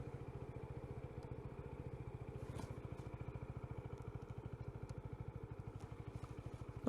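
A motorcycle engine runs steadily at a low rumble, its rapid even pulsing continuing throughout as the bike is ridden and turned around, with a slight rise in level at the very end.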